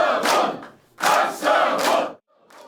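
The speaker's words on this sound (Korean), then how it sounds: "환호성이 터져나왔습니다." Loud crowd cheering erupts in bursts at a People Power Party election campaign camp in Busan on general election night, with several surging shouts and a brief pause near the end.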